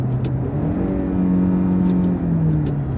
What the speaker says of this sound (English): it downshifts quick